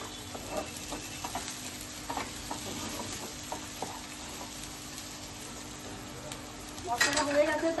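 Spice masala frying in oil with salt while being stirred for an egg curry, giving a low, quiet sizzle broken by soft scraping strokes, with a louder burst of spattering near the end.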